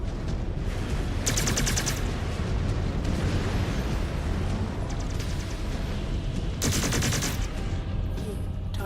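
Two bursts of ER PPC energy weapons fire in MechWarrior 5 Clans, each a bright crackling discharge, loud over a constant heavy roar of battle and mech noise.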